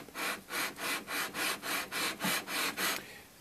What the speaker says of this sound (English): and sands the board to radius